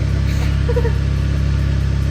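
K-series engine running in a wagon, a close, steady idle with an even pulsing rhythm and no talk.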